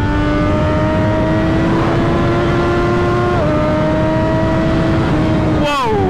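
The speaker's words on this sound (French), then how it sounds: "Le 3 cylindres de chez Triumph. Il chante de sa mère." The three-cylinder engine of a 2016 Triumph Daytona 675 R motorcycle drones loudly and steadily while riding, its pitch climbing gradually with a brief dip at a gear change, under heavy wind rush.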